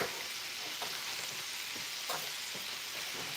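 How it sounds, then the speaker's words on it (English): Cream poured into a hot pan of mustard cream chicken, giving a steady close sizzle and frying hiss throughout with faint stirring scrapes, no voices. "let's go in here with our cream"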